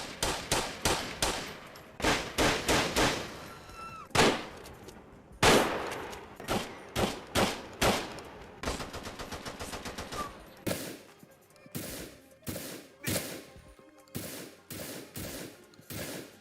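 Bursts of rapid gunfire in short volleys from the video game GTA IV, with single shots and automatic strings ringing out with a reverberant echo, loud and close, no talking.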